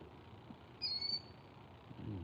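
A single bird gives a short bright chirp outdoors late in the evening, brief and moderately clear above a low background hum.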